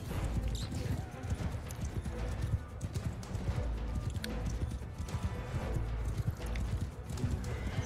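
Horses gallop with steady clip-clop hoofbeats and an occasional whinny in a Mount & Blade II: Bannerlord battle, loud and continuous, mixed with game rumble and effects.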